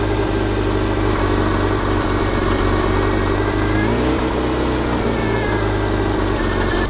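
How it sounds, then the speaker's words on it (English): A cold 1978 Triumph Spitfire engine, fed extra starter fuel in place of a choke, runs loud and close with a steady, rough idle that lifts briefly in revs midway before settling back. "Give it a bit more fuel on starter because the engine has gone cold by now."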